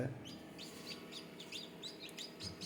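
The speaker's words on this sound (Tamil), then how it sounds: "மூணு குஞ்சு பொரிச்சிருக்கு ப்ரோ." Newly hatched chicken chicks peep in a quick series of high, thin chirps, about ten evenly spaced calls, faint and close against a quiet background.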